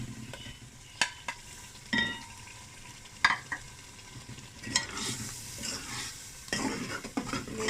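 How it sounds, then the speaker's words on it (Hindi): Mutton liver and yogurt frying in a pan: a constant sizzle with repeated scrapes and knocks of a utensil stirring against the pan, getting busier toward the end. "कलेजी और दही को हम अच्छे से फ्राई करते हैं"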